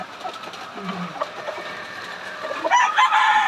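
Roosters at a farm crow and cluck, with a brief cluck early on and a loud, drawn-out crow rising near the end over faint background noise.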